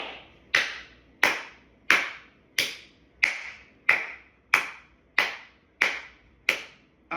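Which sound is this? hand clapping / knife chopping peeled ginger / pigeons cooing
hand clapping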